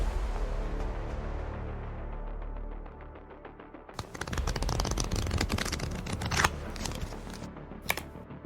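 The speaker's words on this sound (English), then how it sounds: "let's shuffle up and deal" Playing cards are shuffled up close: a softer lead-in gives way to rapid, crisp riffling crackles and snaps, with one or two sharper bursts near the end.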